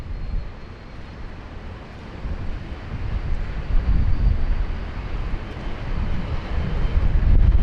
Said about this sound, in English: is Jetstar 8991 ferrying down from the Gold Coast. The beautiful Gold Coast. It's operated by an Airbus A320.